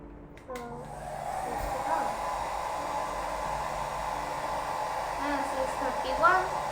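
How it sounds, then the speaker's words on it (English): A hair dryer switches on and blows hot air at a hydroponic garden's temperature sensor, a steady broadband roar that holds for several seconds, with brief faint voice-like sounds over it. "Now I'll switch on the hair dryer for"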